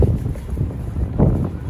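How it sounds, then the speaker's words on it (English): Strong outdoor wind buffets the microphone in a loud, continuous low rumble with gusting surges, the heaviest near the end, and no clear speech over it. "it's so windy, but hope you guys can hear me"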